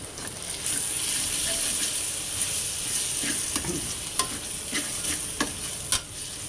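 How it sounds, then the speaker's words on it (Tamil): Ginger garlic paste sautéing for prawn thokku, a steady bright sizzle with scattered light scrapes and taps of a spoon stirring in the pan, fairly quiet. "அதை போட்டு நல்லா மிக்ஸ் பண்ணி வதக்குங்க"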